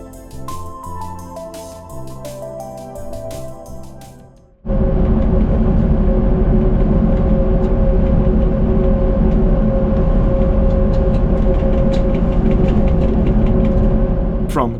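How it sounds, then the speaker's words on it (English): Music gives way abruptly to the loud, steady rumble and hum of a PESA Link railcar running at full speed on the Iller Valley Railway, a continuous droning roar heard close from inside. "we can listen to the distinctive sound of the PESA Link going at full speed"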